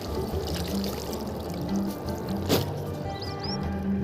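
A fishing net being rinsed in river water while fishing for khoyra and bata fish, with steady watery sloshing and pouring, one brief louder splash midway, and a faint low hum underneath.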